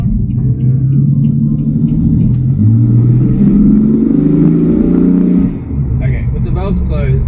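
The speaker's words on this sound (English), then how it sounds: "You can really hear the VRSF intakes with the valves closed." A car with VRSF intakes and its exhaust valves closed revs in a residential street, a loud rumbling pull whose pitch climbs in stepped surges before dropping off, with a voice speaking over it.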